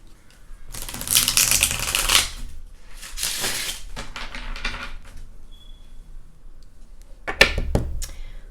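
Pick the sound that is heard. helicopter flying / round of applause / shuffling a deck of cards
shuffling a deck of cards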